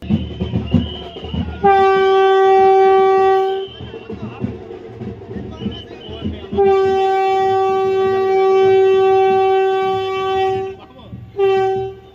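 A Vande Bharat express passes through Palakollu station, its loud sustained horn blaring in two long blasts and a short third, over rumbling wheels and brief voices.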